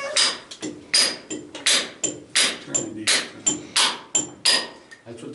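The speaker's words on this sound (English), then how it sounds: "When using a chisel tip, you just gradually chip in the granite away, wind up with a nice round hole." Repeated hammer blows on a chisel-tipped drill steel boring into granite inside an underground gold mine, about a dozen sharp ringing strikes in a steady rhythm, close and loud.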